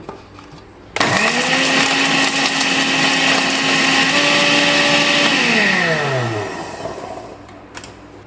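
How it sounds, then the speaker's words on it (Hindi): Electric grinder powdering whole biryani spices runs loud and close with a steady high whine, starting abruptly, holding for several seconds, then winding down as the motor slows and stops. "कवर कर दूँगी और इसका भी पाउडर बना लूँगी"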